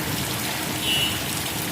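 Steady rain falling over a flooded market, a continuous even hiss of drops on water and surfaces, close and unbroken, with no talk.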